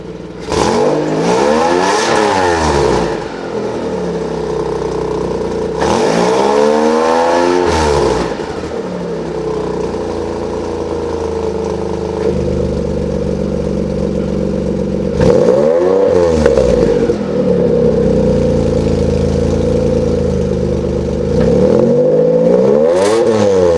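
A car engine fitted with a Varex muffler revs repeatedly up to about 5,000 rpm, each rising roar sweeping upward and then falling back to a steady idle, loud and close with no talking.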